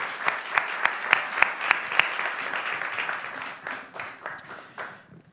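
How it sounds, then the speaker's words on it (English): Audience applause for a panel of speakers at a Bucharest forum, opening with several loud, sharp individual claps over a steady wash of clapping that gradually thins and fades toward the end. "a warm round of applause for our panelists"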